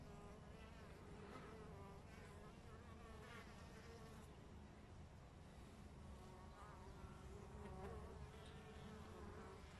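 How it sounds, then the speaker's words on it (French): A continuous buzzing drone of honeybees returning to the hive with pollen in November, steady and fairly faint, with soft background noise. "il y a quelques abeilles, un coup de temps en temps, qui ramènent encore du pollen à cette saison"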